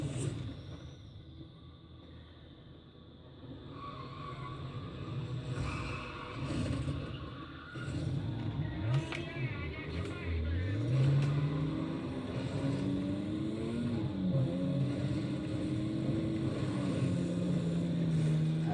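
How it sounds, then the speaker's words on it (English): Racing cars in the Need for Speed video game, engines droning and revving with rising and falling pitch as the race gets underway, steady and moderately loud throughout. "have a wee race on Need for Speed"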